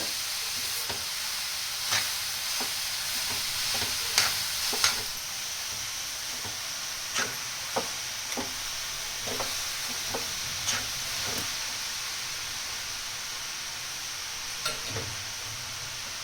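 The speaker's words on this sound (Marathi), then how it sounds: "तुपात चांगलं परतून घ्यायचं।" Carrot and beetroot halwa stir-fried in ghee, a soft continuous sizzle with repeated spoon scrapes and taps against the pan at irregular intervals, fairly quiet and without talk.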